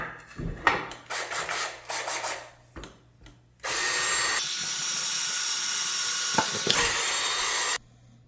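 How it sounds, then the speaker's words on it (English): A power drill bores a hole in wood for an RC curry stirrer, running steadily for about four seconds after some handling and scraping noises. "So let's get drilling."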